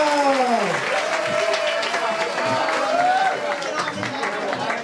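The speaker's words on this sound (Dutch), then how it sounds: "Met een groot applaus," Dense audience applause fills a stage show for performer Ivanka, loud and continuous for several seconds, with a voice carrying over the clapping crowd.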